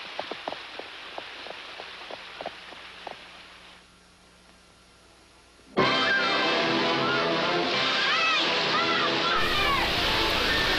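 After planks are removed, water rushes in with a sudden loud, steady sloshing roar that starts midway, preceded by quieter tapping and someone speaking.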